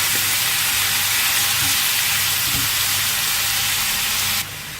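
Minced meat for kebab sizzles steadily in a hot pan, a dense continuous frying hiss with a few soft scrapes of stirring, close and loud throughout, no talking.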